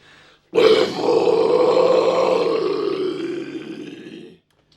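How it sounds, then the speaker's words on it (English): A sustained, guttural low metal scream, loud and rough, held for about four seconds before cutting off abruptly, with no other voices. "This is a guttural low executed correctly at full volume."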